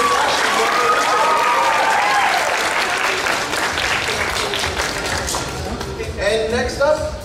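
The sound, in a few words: audience applause at a costume contest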